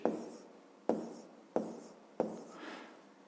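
Pen or pencil writing numbers by hand on paper, four short scratchy strokes each starting sharply and fading, close and quiet with no talking.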